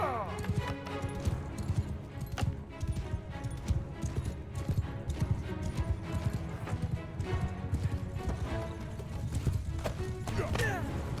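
Horses galloping in battle in Mount & Blade Bannerlord, a dense, continuous drumming of hooves with clanking combat noise, steady and loud throughout.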